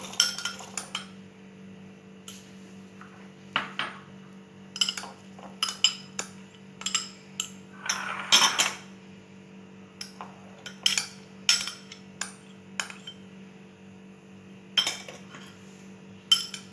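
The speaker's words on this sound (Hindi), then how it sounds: "सारे फ्रूट्स हम अपने बाउल में डालेंगे।" Chopped fruits, including strawberries and pitted, finely cut dates, tumble into a bowl with repeated close clinks and clatters of cutlery and dishware at an uneven rhythm, with no talking.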